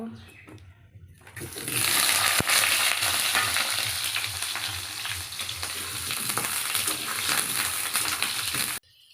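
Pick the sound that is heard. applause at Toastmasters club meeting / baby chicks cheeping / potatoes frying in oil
potatoes frying in oil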